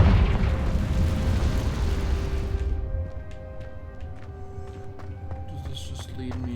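A Confringo fire spell goes off in a Harry Potter–style video game, a loud, broad rumbling blast that swells at once and then fades into a lingering roar with faint ringing effects.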